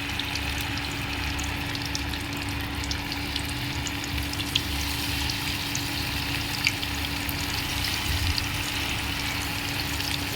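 Marinated paneer pieces fry in a pan of oil with a continuous, even sizzle that holds steady throughout, close up and without talk.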